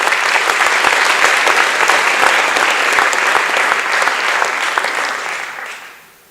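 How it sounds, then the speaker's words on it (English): Loud, sustained applause from a large audience at an athletic awards banquet, thick continuous clapping that fades out at the end. "let's give a round of applause for those letter winners"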